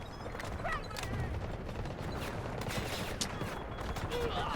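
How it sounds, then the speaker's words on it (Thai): Rapid bursts of gunfire from the video game Delta Force crackle continuously through the clip, dense and loud, with a voice talking over the shooting. "โอเคเพื่อนยิงละ"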